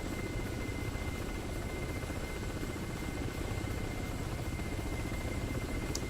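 Ka-50 attack helicopters fly in the combat game DCS World, producing a continuous, moderately loud rotor thrum and engine whine, steady throughout with a brief faint click near the end.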